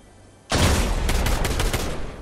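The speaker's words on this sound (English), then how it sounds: "Being shot again." Gunfire in the video game Fortnite erupts suddenly after a quiet moment into a loud, continuous rapid burst of shots lasting nearly two seconds.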